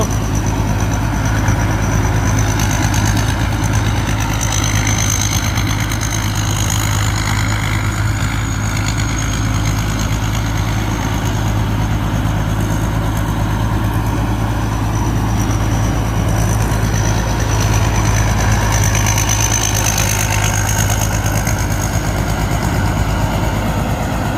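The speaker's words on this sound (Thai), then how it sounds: "ชมรถเกี่ยวข้าวไปเรื่อยๆ นะครับผม" Combine harvester engine running loudly and continuously while harvesting barley, a heavy low rumble with steady mechanical whine and rattling, close and unbroken for the whole stretch with no talking.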